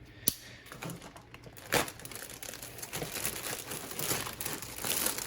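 Plastic packaging on a 1/48 scale model kit is cut open close up, making quiet crinkling and crackling with a few sharp snips and rustles.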